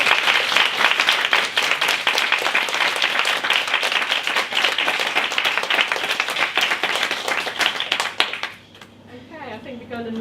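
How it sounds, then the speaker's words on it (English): Audience after an artist's talk on self care applauding speaker Julie Vulcan, loud sustained clapping from a full room for about eight seconds, then dying away as a voice begins talking. "I think we should give her a big applause"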